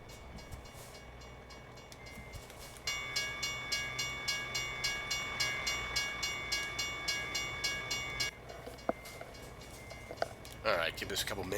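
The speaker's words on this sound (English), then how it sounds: "Looks like the train is going to be coming by." A freight train rolls past a truck waiting at a crossing in American Truck Simulator, its wheels thumping in a steady, regular rhythm over rumbling engine noise, then fading away. Speech is present in the clip.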